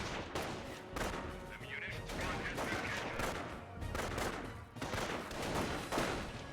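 Gunfire in a Company of Heroes 1 match pouring onto Panzer Grenadiers, a steady crackle of rifle and machine-gun shots with distant thuds under a busy battlefield wash.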